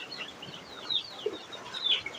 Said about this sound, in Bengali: আমার হাঁস মুরগিকে খাবার দিয়েছি, সবগুলো খাবার খাইতেছে।